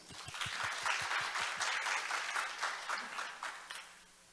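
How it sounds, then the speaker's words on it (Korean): Sustained audience applause fills a youth forum hall in Jeju in 2024, steady and dense for about four seconds before tapering off at the end, with a few soft low thumps early on. "박수로 맞아주시죠."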